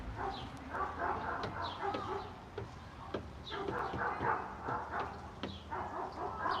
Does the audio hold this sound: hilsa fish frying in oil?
no